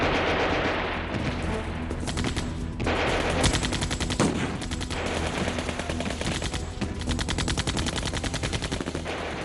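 Dense gunfire and machine-gun bursts rattle continuously as camouflaged SS soldiers attack an isolated British unit in a farmhouse in summer 1940. Loud, overlapping volleys and sharp cracks fill the whole stretch, with no talk.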